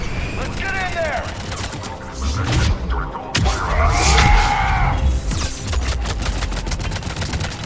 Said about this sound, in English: They're under fire.